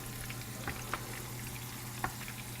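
Food deep frying in hot oil, a steady close sizzle and crackle with a low hum beneath and a couple of sharper pops, no one speaking.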